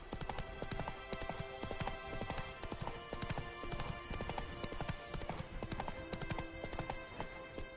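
Roach, the horse from The Witcher video game, gallops in a steady, loud clip-clop of hooves that runs unbroken throughout, close and continuous with dense rhythmic hoofbeats and no talking.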